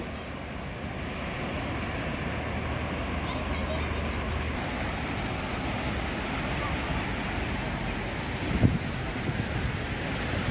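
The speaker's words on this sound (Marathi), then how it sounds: "हा पूर्ण समुद्र आहे" Steady broadband wash of surf and wind at Worli seashore, continuous throughout with a brief thump near the end.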